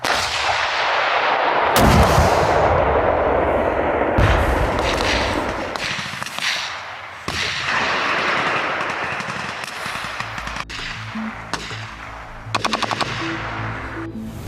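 Heavy gunfire and artillery booms from a staged battle reenactment, loud and continuous, with dense bursts, sharp cracks and deep thuds at close range and no talking.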